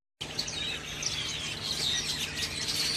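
Birds chirp and tweet continuously in a faint outdoor background, many small overlapping calls with no voices present.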